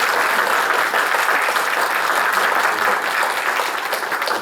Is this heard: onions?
no